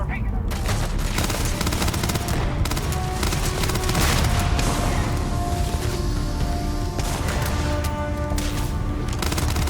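Rapid gunfire from a P90-like weapon in the science-fiction video game Starfield crackles loudly and continuously through a dense, busy game mix, with sustained bursts and booms filling the whole stretch.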